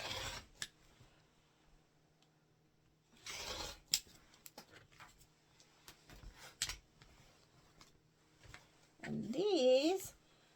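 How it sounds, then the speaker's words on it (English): A rotary cutter slices quilting fabric squares from 2.5-inch strips on a cutting mat, with short scraping cuts and soft rustles of cloth, plus a brief tonal squeak near the end and quiet handling between strokes. "Clean up my edge here and cut 2 more squares here."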